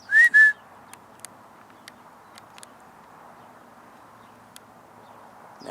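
A wild bird gives two short, clear whistled notes close by, then falls quiet, leaving faint outdoor background with scattered small ticks and rustles.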